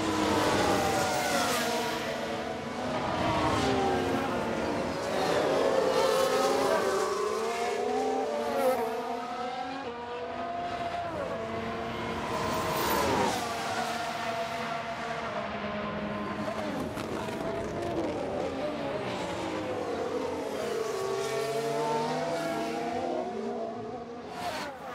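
Alpine Formula 1 race cars in a video game at the Bahrain Grand Prix, engines whining loudly and continuously with rising and falling revs as cars close in and one shoots past, with faint tire noise.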